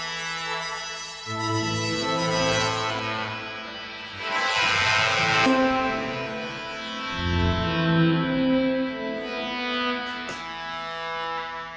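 Sustained synth chords washed in heavy reverb, smeared and gritty with a crunchy, degraded digital texture from a Goodhertz Lossy plugin placed after the reverb; no voices.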